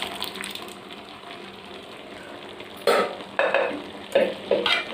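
Cooked lentils stirred into a yellow pumpkin kootu in a pan, with several distinct scraping, squelching stirring strokes in quick succession after a quieter start, close and fairly loud.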